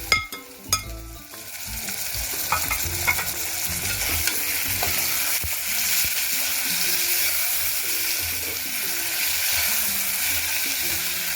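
Tomatoes for veg pulao land in a hot pan with a few sharp clanks at the start, then settle into a loud, steady hiss of frying with occasional stirring scrapes and no speech.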